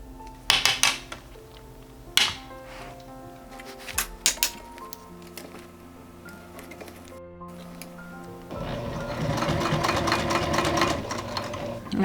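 A domestic sewing machine stitches the seam attaching a strap to a handmade bag, a steady motor whir with short pauses, a few sharp clicks, and a louder, busier run near the end; no speech.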